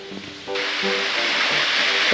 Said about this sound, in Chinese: 先来看嘉东瀑布